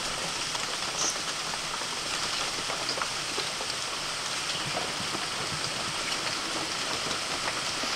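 Steady rain falls outside, a continuous dense patter on surfaces with scattered drop ticks, moderately loud and even throughout, no voices.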